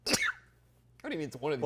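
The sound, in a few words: sneeze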